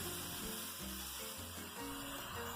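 Enoki mushrooms sizzle in hot oil while being stir-fried, a continuous bright hiss broken by low clanks and scrapes of the utensil against the pan.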